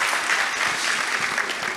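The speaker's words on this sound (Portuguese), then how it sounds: "Pode aplaudir" An audience at a gastronomy talk claps in a dense, even wave of applause that holds steady throughout, fairly loud and filling the room, with no clear voices over it.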